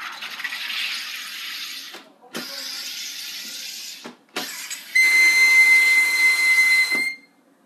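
A brand-new SodaStream carbonator forces gas into a bottle of water: three loud hissing bursts, each cut off by a short pause, then a longer, stronger hiss with a whistling tone that stops abruptly.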